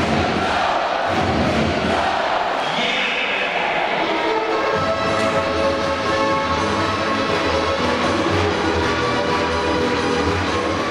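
Ice hockey arena crowd roaring after a goal in a Basingstoke Bison versus Swindon Wildcats game, a dense, sustained wall of cheering and noise that stays loud for the full stretch.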